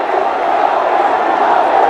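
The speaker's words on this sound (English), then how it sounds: "The huge roar from the crowd." A cricket crowd at a Ranji Trophy match between Delhi and Railways roars loudly as a batsman walks out, a dense, sustained wall of cheering voices close and continuous.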